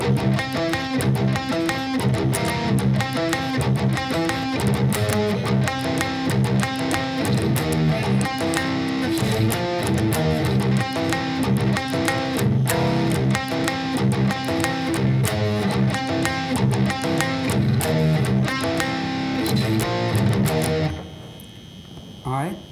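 A guitar plays the intro to a song in drop C tuning with a steady, rhythmic strummed pattern of repeated chords for about twenty seconds before stopping and fading out.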